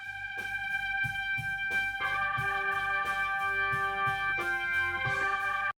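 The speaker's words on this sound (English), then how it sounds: "So the B3 organ right now by itself sounds like this." Hammond B3 organ chords played through a Leslie speaker, with sustained, layered tones and a swirling rotary shimmer, soft rhythmic thumps underneath, playing steadily and close up before cutting off abruptly.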